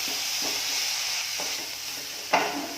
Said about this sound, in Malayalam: അപ്പം നമ്മുടെ കറിവേപ്പിലയും മല്ലിയിലയും ഉണ്ട്. ഇതും ഇതിൻ്റെ കൂടെ നമുക്ക് ചേർത്ത് കൊടുക്കാം. നന്നായിട്ട് ഇളക്കി കൊടുക്കാം.